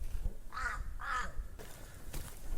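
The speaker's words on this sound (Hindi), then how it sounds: "और ये पहाड़ी कौवा, ये देखिए कितना पास से गया है।" Two loud, harsh caws from a hill crow passing close by on a mountain trek trail, followed by fainter rustling and outdoor background noise.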